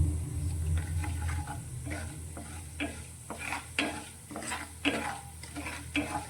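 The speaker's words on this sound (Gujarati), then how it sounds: "આ રીતે હલાવતા જઈ અને વઘારને આપણે સારી રીતે સાતળવાનો છે" Mustard seeds tempering in a pan for a raw potato snack, sizzling steadily while a spoon stirs with repeated scraping clinks against the metal, close and fairly loud with no talking.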